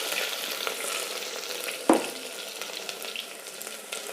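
Green chillies and ginger-garlic paste sizzle steadily in a pan on a low flame, with soft stirring scrapes and one sharp clink of the spoon partway through, and no voices.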